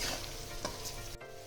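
Potatoes with turmeric and salt sizzle in hot oil in a pan, while a utensil stirs and scrapes through them in short strokes, close up and quiet.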